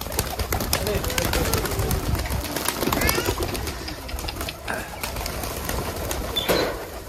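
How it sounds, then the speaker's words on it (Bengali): A busy crowd of Giribaz pigeons coo and flutter, with overlapping low calls and wing sounds filling the background while people talk nearby. "চারিদিকে কবুতর আর কবুতর।"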